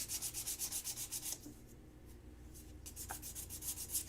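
Sandpaper glued to a wooden tongue depressor being rubbed back and forth, a fast rhythmic rasping that runs steadily, pauses briefly in the middle, then resumes close up with no talking.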